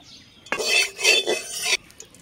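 Oil goes into a kadai on the stove for an egg-and-vegetable dish, a short metallic scrape and clatter of about a second, close and fairly loud, with no talk.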